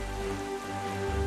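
A dense, steady patter of rain from The Legend of Zelda: The Wind Waker HD fills the scene alongside a held musical tone, with a low swell near the end and no speech.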